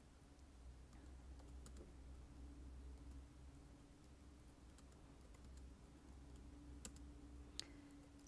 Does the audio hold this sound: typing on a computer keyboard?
yes